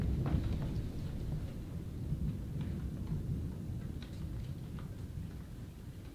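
Rolling thunder from a severe thunderstorm with lightning, hail and a power outage: a low, continuous rumble grumbling on without pause, moderately loud, with faint rain ticking on top.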